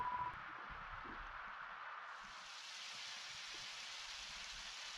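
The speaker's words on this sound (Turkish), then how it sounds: "Yağmur yağıyor güzel." Steady hiss of rain falling in the video game Undertale, a continuous broadband wash that brightens partway through, with no voices over it.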